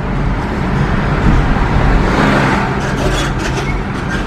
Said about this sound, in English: A lot of cars here.